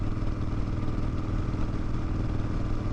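Motorcycle cruising on country roads just outside Columbus, Ohio, with a steady, continuous engine drone and rumble mixed with wind noise throughout, loud and close with no breaks.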